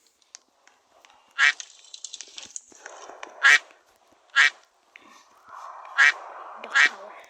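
Cartoon duck quacks and honks in a Roblox obby game: five loud, separate honking calls spaced about a second apart, with softer game sounds and faint clatter between them.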